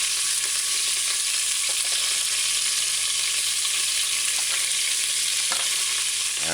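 Garlic and beef sizzling in a pot on the stove, a steady bright frying hiss with occasional soft stirring clicks, close and continuous.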